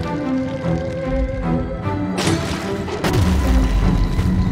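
A lead pipe smashing an object in Bendy and the Ink Machine, with loud crashing impacts over a droning background and a heavy final smash.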